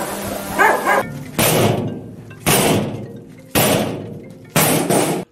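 A police detector dog barks in loud, close bursts, several separate barks spaced about a second apart during a large narcotics raid, with no talk over it.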